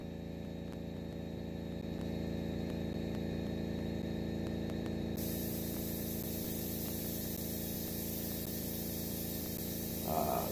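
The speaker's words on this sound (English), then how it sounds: "my airbrush is definitely working a lot better" An airbrush sprays paint in light coats, giving a steady, even hiss that runs the whole time over a constant low mechanical hum, without pauses.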